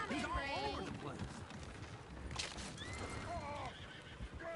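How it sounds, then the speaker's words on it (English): Horses in the Red Dead Redemption 2 video game whinny repeatedly amid galloping hooves and loud ambient noise, with a person speaking over the commotion. "Oh, shit, the horses! Damn horses!"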